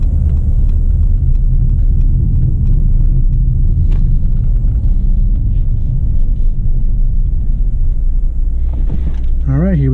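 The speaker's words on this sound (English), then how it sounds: "All right, so we're gonna turn around, do a little race start." A 2018 Mercedes-AMG E63 S Wagon launches from a race start, a loud continuous engine roar with heavy low rumble building steadily throughout, with a brief voice near the end.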